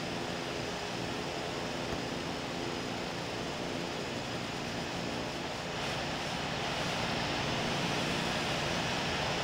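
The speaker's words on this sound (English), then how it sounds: "Taxiing to runway 9." An aircraft taxiing to runway 9 in the Infinite Flight game, a continuous, even engine roar and broadband whoosh that holds steady and swells slightly near the end, with no talk.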